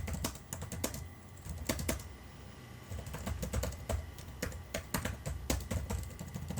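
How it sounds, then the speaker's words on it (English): Steady rapid typing on a Dell Vostro 3550 chiclet laptop keyboard, light clicky keystrokes in quick irregular bursts, close up with no voices. "overall typing on it is actually fairly good"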